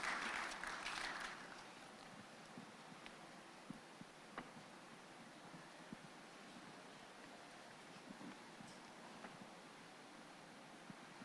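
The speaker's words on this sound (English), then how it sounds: "Let's give her a round of applause as she joins us." An audience applauds at the 18th COMESA Business Forum at KICC in Nairobi: a short burst of clapping that quickly fades into a faint, steady room hiss, heard from a distance.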